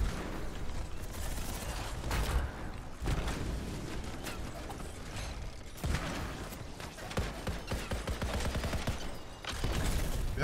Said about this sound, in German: Wer schießt denn da von hinten auf mich?